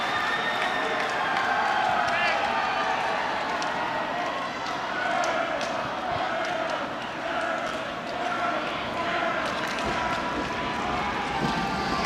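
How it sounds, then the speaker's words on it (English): Teams at the ACC men's and women's swimming championships cheer swimmers on during a relay, a continuous loud crowd roar of shouting and whooping in an echoing natatorium, with a commentator talking over it. "Teams cheering these guys on all the way to the end."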